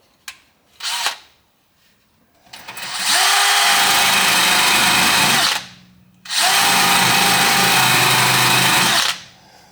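A power tool grinding paint off bare metal on a 1967 Impala to make a ground connection, two long loud whining bursts of several seconds each after a few short taps, close up.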